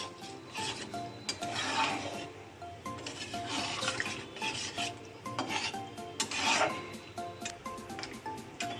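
A spoon stirring okra masala in a pan after water is added, with repeated scraping and rasping strokes close up, wet and gritty, with no voices.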